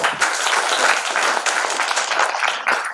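Lively audience clapping at a theatre event, dense and fairly loud applause filling the whole stretch without a pause.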